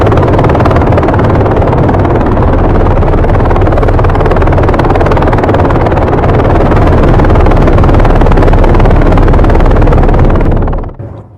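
A loud helicopter drones continuously with a thudding, churning rotor noise that holds steady, then cuts off abruptly at the end.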